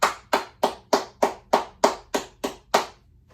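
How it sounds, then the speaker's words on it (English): Hands clap ten times in a steady, evenly spaced rhythm, each clap crisp, close and loud, with nothing else heard between them. "I clap my hands to that"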